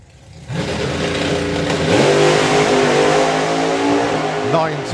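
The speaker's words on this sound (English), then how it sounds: "So here we go then, the Bad Apple Camaro. Of course, the nitrous Camaro." Nitrous-fed Chevrolet Camaro drag car, the Bad Apple, launching at a drag racing final: a sudden, loud, sustained engine roar with rising revs that stays close and powerful, with a commentator talking over it.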